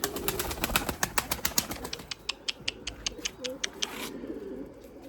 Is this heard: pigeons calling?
yes